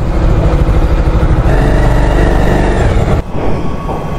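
A motorcycle engine runs loud and close at a guest house stop on a bike trip from Kolkata, a steady low rumble that dips briefly near the end before continuing.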